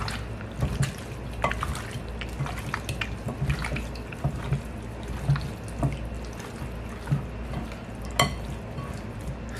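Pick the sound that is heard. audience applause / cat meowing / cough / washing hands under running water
washing hands under running water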